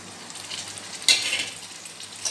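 Chopped taro drops into hot oil in a pan and sizzles, with a sudden loud burst of frying that then settles into a steady, close crackle.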